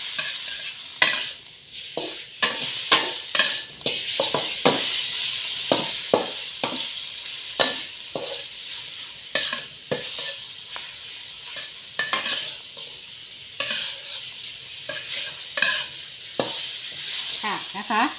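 Cucumber and vegetables stir-fry for a Thai sweet and sour dish, loud continuous sizzling broken by frequent rhythmic scrapes and clatter of a spatula in the pan, up close.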